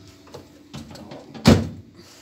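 An oven door is opened to take food out: a few soft handling knocks, then one loud clunk as the door swings open close by, with no talking.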